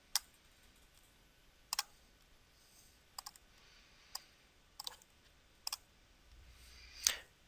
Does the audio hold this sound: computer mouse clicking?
yes